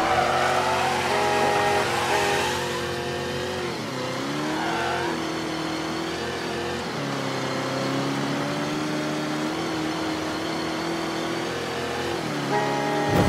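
A car engine in the video game Mafia 3 revs and surges steadily, rising and dipping in pitch as it accelerates, loud and continuous without talk.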